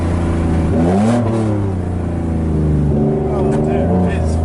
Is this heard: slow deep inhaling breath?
no